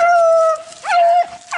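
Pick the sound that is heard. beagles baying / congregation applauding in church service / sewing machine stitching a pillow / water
beagles baying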